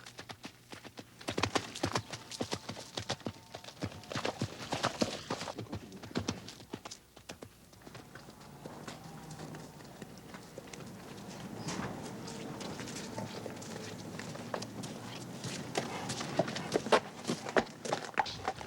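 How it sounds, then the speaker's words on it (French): A horse walking, with irregular clip-clop hoofbeats, louder and sharper early on, then softer and steadier, with no talk. "c'est beau de voir marcher ça, un cheval"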